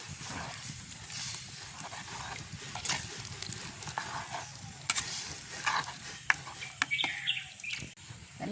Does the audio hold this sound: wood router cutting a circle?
no